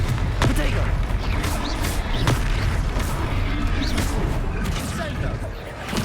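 Confringo fire-blast spell explosions in Hogwarts Legacy during a boss-style duel, loud booming crackles mixed with combat clatter and dense game noise, with voices shouting over the action.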